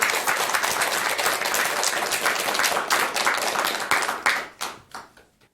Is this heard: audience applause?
yes